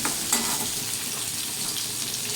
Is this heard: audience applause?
no